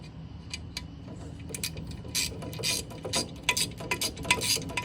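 A Matco tool-truck ratchet clicks in a quick run of pawl ticks that speeds up toward the end, loud and close, with no talk over it.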